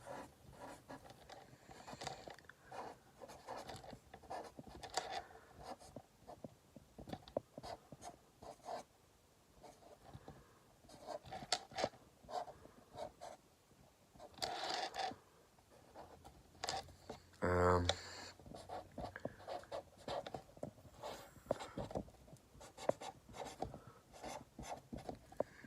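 Pen scratching a name onto paper with steady, close rubbing strokes that run on for a long stretch, faint and mixed with a voice talking throughout.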